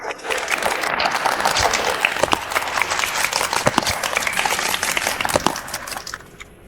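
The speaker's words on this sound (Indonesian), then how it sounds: "Mari kita berikan tepuk tangan meriah untuk pengantin malam ini, Nona Shen Muxi." Guests applaud the bride at an engagement party, lively clapping with sharp individual claps standing out of the crowd sound before it fades at the end.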